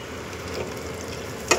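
Soft, steady sizzling of a bay leaf frying in hot oil in a kadhai, with a brief sharp clink near the end.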